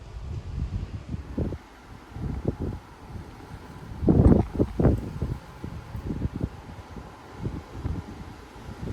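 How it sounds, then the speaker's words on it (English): Strong wind gusts of 40 to 50 mph buffet the microphone in Frisco, Texas, in irregular low roaring bursts that swell and fade, with one heavier blast partway through. "These are some very strong winds, folks."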